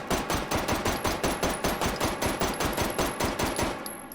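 Rapid string of gunshots from a handgun fitted with a compensator, about twenty loud close reports in a steady fast rhythm over four seconds, with no talking.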